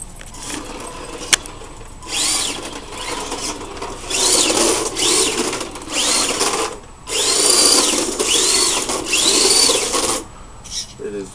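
A Tamiya Datsun 240Z RC car drifting on interlocking pavement: its electric motor whines in repeated rising bursts of a second or two with short gaps, loud and close, a faint voice now and then underneath.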